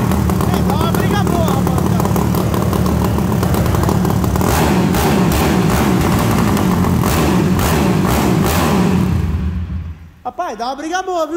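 Motorcycle engine revving in a test for racing, a loud continuous deep exhaust rumble with rising and falling revs, then cutting off near the end, where faint voices and whooping sounds take over.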